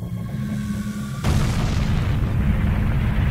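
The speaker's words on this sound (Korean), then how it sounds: "화산 폭발하네요." A volcano erupts in the video game Zelda: Ocarina of Time, a sudden deep boom that gives way to a sustained, loud rumbling roar.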